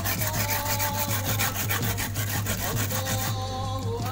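Young galangal being ground or grated by hand on a stone mortar in a home kitchen in Lombok, producing a steady, rapid rasping scrape with a rhythmic back-and-forth pulse, close and fairly loud, with no talking.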